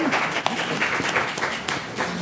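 An audience at a city council meeting applauds with a dense patter of clapping, mid-loud and sustained, with a few louder claps and voices mixed in.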